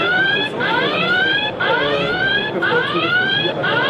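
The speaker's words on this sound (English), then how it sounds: "you can push the button and the alarm is set off" A Hytera police radio alarm wails in repeating falling sweeps, about one per second, loud and close, with no talking over it.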